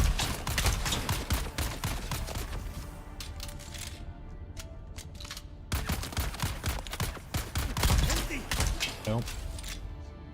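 Gunfire in the video game Dune: Awakening comes as rapid bursts of sharp shots in two loud clusters, under a man's brief remark.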